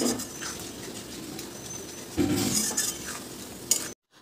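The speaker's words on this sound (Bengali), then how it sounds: "এর মধ্যে এখন দিয়ে দেবো পোস্ত আর 4 মগজের পেস্টটা। এটাকে একটু ভালো করে কষিয়ে নেব।" Poppy seed and melon seed paste being stir-fried with onion, ginger and garlic in a pan, with a quiet sizzle, a brief louder scrape of stirring midway, and faint clinks.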